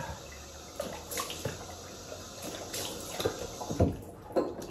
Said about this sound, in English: Okay, cold water.